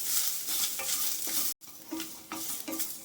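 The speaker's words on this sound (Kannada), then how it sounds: "ತೆಂಗಿನಕಾಯಿ ಹುರ್ಕೊತಾ ಇದ್ದೀನಿ" Grated coconut and curry leaves are dry-roasted in a pan over low flame for a traditional urad dal chutney. A steady sizzle runs with scraping stirs, broken by one brief silence midway.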